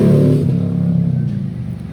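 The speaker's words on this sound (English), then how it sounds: "Pardon the loud exhaust pipes." Loud motorcycle exhaust rumbling through the Daytona Beach area during Biketoberfest, a deep throaty drone heard from a garden nearby that stays strong and then slowly fades away.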